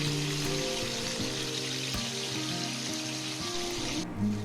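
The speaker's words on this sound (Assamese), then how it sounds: "আৰু সেইখিনি তেলতে মাছ কেইডোখৰক এনেদৰে ভাজি লৈছোঁ।" Fish pieces frying in oil for a fish dish with pumpkin and melon seeds, a soft continuous crackle and spatter sitting low in the mix under a faint steady hum, with a small clatter right at the end.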